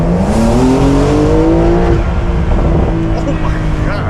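A Porsche 911 engine accelerates hard on an open road stretch, its rising, sustained tone climbing in pitch as it pulls through the revs, loud and close.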